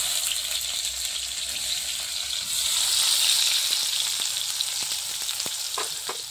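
Onions frying in hot oil in a pan, a steady loud sizzle that swells midway, with a few faint stirring clicks toward the end and no voices.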